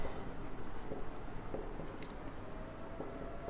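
Pen scratching across paper while working through a Class 9 maths problem on polynomials, with short irregular strokes and small taps, fairly faint and steady, no talking.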